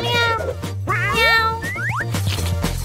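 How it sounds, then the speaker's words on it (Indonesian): Cartoon cat meowing in repeated rising, wavering cries, loud and close, over a steady low background tone with a springy boing-like effect. "Oke, Oscar, si kucing."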